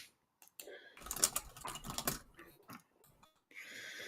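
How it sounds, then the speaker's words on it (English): Fast, hard typing on a computer keyboard, a dense burst of clacking keystrokes in the middle with quieter scattered taps before and after, close and loud with no talk. "Mad Max is typing away, just bam, bam, bam, bam, Mad Max style."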